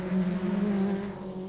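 TVR Tuscan race cars lapping a circuit in 1997, a sustained engine drone with a steady tonal whine, moderately distant and fairly faint.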